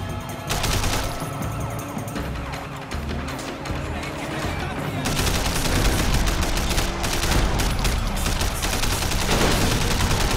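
Dense, continuous gunfire and crashing impacts from the Sleeping Dogs video game, loud and sustained throughout with barely any pause, a voice faintly under the din.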